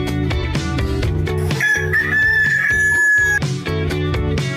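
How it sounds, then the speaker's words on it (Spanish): A rooster's cock-a-doodle-doo sounds for about two seconds over bright, rhythmic children's music in a farm-animal sound lesson. "¿Y cómo hace el gallo?"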